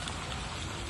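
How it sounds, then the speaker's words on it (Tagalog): Light drizzle falling outdoors, a soft steady hiss of fine raindrops spread evenly across the moment, close and continuous with no voices. "Umaambon na talaga."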